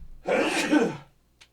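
A single close sneeze from a man with a cold, a sharp burst of breathy noise lasting under a second, followed by a faint short exhale.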